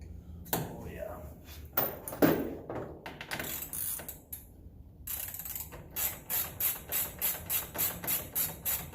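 A hand wrench ratchets while parts are removed from a Can-Am X3 side-by-side, a close run of quick clicking strokes building toward the end, with scattered clanks and handling noises earlier.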